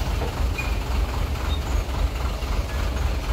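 A truck loaded with oil palm seedlings accelerates up the steep Kedawuhan incline, its engine a loud, continuous low rumble heard close by with no talking.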